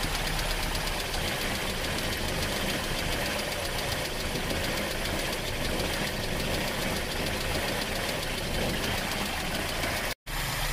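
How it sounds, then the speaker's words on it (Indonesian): A Toyota Kijang 5K carburetor engine idles steadily and close by during carburetor and RPM adjustment, a continuous even running drone that cuts out briefly near the end. "ini kita setel karburatornya. Ini nanti caranya menyetel RPM mesin"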